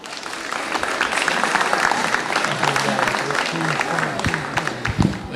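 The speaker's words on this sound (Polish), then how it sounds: "Zapraszamy księdza Roberta. Brawa" Sustained audience applause at the opening of a youth festival in Górka Klasztorna, steady dense clapping throughout with a few louder claps near the end and some voices mixed in.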